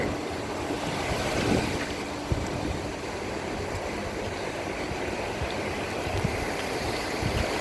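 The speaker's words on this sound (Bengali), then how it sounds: "সমুদ্রের উত্তালতা। উত্তাল বলা যায় না, হালকা সমুদ্র।" Gentle sea waves at Digha beach wash in a steady, continuous roar of surf with no voices, holding an even level throughout.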